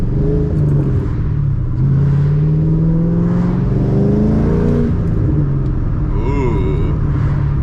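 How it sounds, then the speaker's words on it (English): A Ford Mustang engine idles and revs after startup, a loud close rumble with shifting pitch. A voice talks over it. "I like the vibrations that the car makes"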